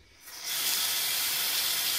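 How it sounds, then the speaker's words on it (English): Water runs steadily from a tap over jalapeños being washed, a broad rushing hiss that starts after a brief quiet moment and then holds constant and fairly loud to the end. "Wash the jalapeños."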